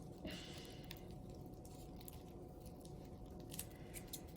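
Scissors trim the edge of folded paper while making a paper flower crown, giving a few faint, sparse snips against a quiet room.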